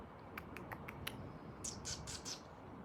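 A crow perched up high squawks in a quick series of short, faint calls, followed by a few harsher, longer caws, over a low steady background hum.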